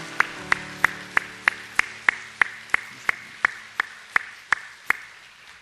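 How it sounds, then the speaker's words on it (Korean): Slow, evenly spaced claps at a church service, about fifteen sharp single beats in a steady rhythm, close and clear, with a low held tone fading under the first few. "다 같이 박수 한번 다시 하겠습니다"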